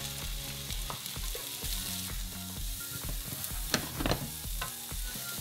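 Onions and red peppers sizzle steadily in hot vegetable oil in a pan, a continuous crackling fry with occasional stirring and no voices.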